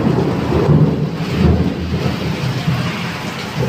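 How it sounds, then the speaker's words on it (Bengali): Heavy rain pours down outside a village home during an afternoon storm, a dense, loud roar of falling water with deep rumbling swells, no voices over it. "বাইরে খুব বৃষ্টি এসছে, বিশাল বৃষ্টি হচ্ছে, এত বৃষ্টি হচ্ছে।"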